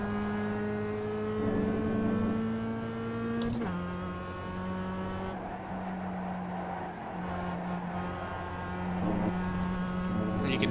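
A race car engine in the iRacing sim, driven at Lime Rock in a production car, drones with a steady tonal pitch that dips and shifts as the throttle is feathered through a corner, sustained and prominent throughout.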